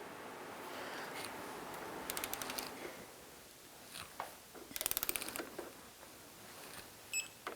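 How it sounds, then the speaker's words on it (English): Torque wrench clicking and ratcheting as the lower rear shock absorber bolt on a 2002-2012 Jeep Liberty is tightened to 85 foot-pounds, with short bursts of rapid clicks and a few separate mechanical ticks, close and fairly quiet. "I'm going to torque the lower bolt to 85 foot-pounds."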